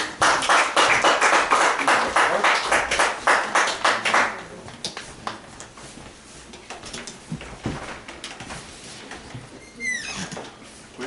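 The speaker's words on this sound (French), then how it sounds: "Alors, on applaudit Denis Morin." Audience applauding at a poetry book launch, a dense burst of clapping that fades after about four seconds into scattered claps, rustling and faint murmurs in a small room.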